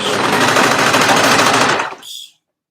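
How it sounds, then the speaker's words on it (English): A close, loud sewing machine stitches fabric in one rapid rattling burst of under two seconds, then slows and stops with a short mechanical whir. "I'm going to turn the fabric to 90 degrees and I'm going to stitch."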